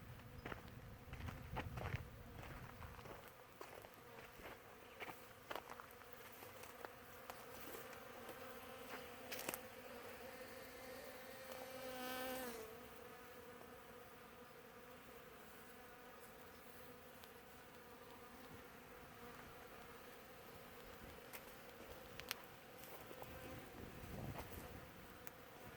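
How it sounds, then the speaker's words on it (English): Faint, steady buzzing of bees around dragon fruit flowers in a quiet outdoor setting, with one bee droning louder as it passes close near the middle. "the bees are just showing up"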